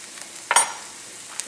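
Vegetables and freshly minced garlic sauté in a coated pan, a faint steady sizzle broken by one short scraping stir of a wooden spoon, close by with no talking.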